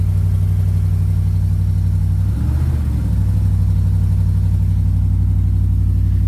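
A heavy truck engine, not run in a while, idles with a steady low rumble, briefly roughening and surging for a moment before settling back into an even drone.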